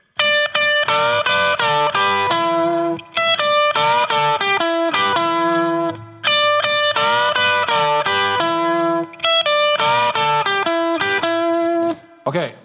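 Distorted electric guitar playing a repeated solo lick, phrases of quick picked notes and bends separated by short gaps, loud and close with no backing.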